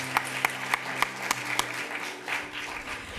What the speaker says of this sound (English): let's have another round of applause for all of our readers this afternoon